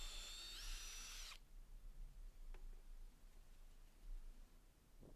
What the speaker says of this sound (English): then I can drill a hole